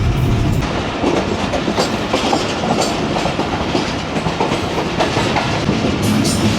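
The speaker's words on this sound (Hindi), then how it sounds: "जो ट्रेन अभी क्रॉस हुई वो है 34 डाउन" A passenger train, the 34 Down on Pakistan Railways, rumbles past close by with a loud, continuous roar and clickety-clack of wheels over rails throughout.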